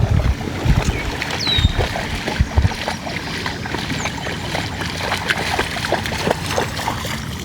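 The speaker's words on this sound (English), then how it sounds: "if you can hear my dog splashing around in the water" A dog splashes about in water nearby, with irregular sloshing bursts and paddling over a continuous watery wash, heard without anyone speaking.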